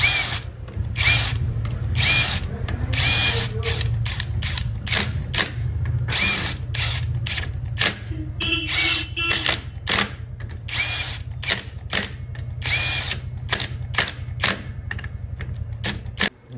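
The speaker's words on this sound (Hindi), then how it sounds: "अभी चलिए फटाफट से 5 बोल्ट कम करते हैं टाइट" Power tool driving bolts tight on a Royal Enfield Hunter 350 clutch cover, a steady low motor drone broken by rapid bursts of sharp clicking and rattling hits that run continuously through the whole stretch, close and loud.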